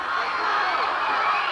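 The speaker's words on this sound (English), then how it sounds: "Sure brings a fine crowd reaction to a race like this, doesn't it?" A crowd at a 1965 interstate relay race cheering and shouting continuously, a dense, bright wash of voices heard at a distance for a short stretch.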